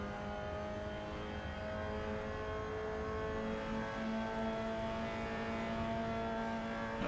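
A Mazda Miata engine in the video game Assetto Corsa, during a 24-hour Le Mans race, drones at a steady, sustained pitch with a constant hum, as if cruising at speed, with no talking.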